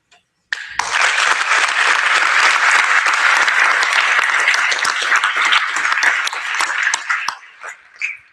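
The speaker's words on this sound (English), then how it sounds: "we give them another round of applause for all the wonderful things they've done" Loud, dense applause erupts after a short silence at a high school NJROTC change-of-command ceremony, holding steady before thinning into scattered claps near the end.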